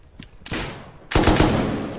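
Two bursts of video game gunfire: a short crackle of shots, then after a brief lull a louder, sustained volley that fades slightly, with no voices.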